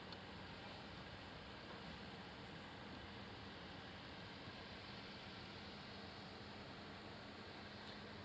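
A 40-pound-thrust Minn Kota electric trolling motor, run at 30% from a Group 24 AGM battery, pushes a Walker Bay boat along with a faint, steady, even hum and no breaks.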